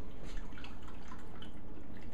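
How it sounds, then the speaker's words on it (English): Vegetable stock poured into a pot while making spicy udon, a steady close liquid pour and splashing trickle running throughout with no talking. "So now we're going to add our vegetable stock."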